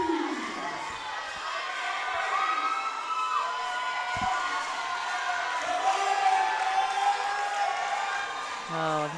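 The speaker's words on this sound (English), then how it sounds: "both of them getting the crowd just rowdy" At the TBF Masters 2019 climbing competition, a rowdy crowd keeps up a steady roar of cheers and shouts, with a commentator talking over it.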